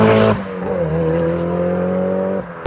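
A 375bhp Mitsubishi Evo VI engine drones loudly with a steady, tonal hum from inside the car while driving. The pitch shifts slightly early on, then holds before dropping off near the end.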